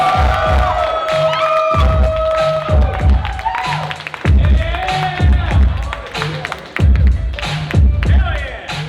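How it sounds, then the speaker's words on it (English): A lively wedding crowd cheers, whoops and claps at close range for the newlyweds, with shouting voices layered over the applause throughout. "I want to hear one more huge round of applause for your newlyweds, Adam and Brittany, Mr. and Mrs. Shields."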